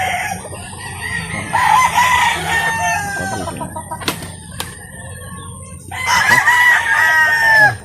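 Chickens cluck and a rooster crows loudly at a backyard chicken coop, with several crows and rising calls close to the microphone, some wing flapping and a few sharp knocks between them.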